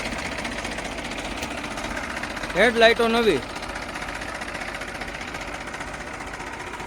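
A New Holland 3230 tractor engine idles with a steady low rumble throughout, while someone speaks briefly in the middle.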